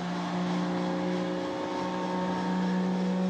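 A Stinson L-1 aircraft engine being started drones steadily and loudly throughout, with a constant low harmonic hum and broadband roar and no clear start or stop.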